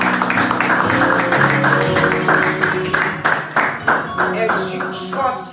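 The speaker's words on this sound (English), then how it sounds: "Let's just clap our hands to the Lord." A church congregation claps their hands together in a steady, rhythmic beat that fills the room. Voices carry along under the clapping.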